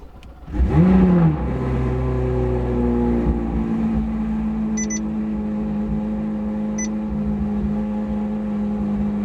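A C8 Corvette Z06 fires up on a cold morning with a sharp starter crank and a loud rev flare, then drops into a steady, rumbling idle that holds for several seconds, with a couple of faint high chirps over the drone.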